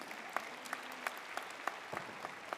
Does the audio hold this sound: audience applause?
yes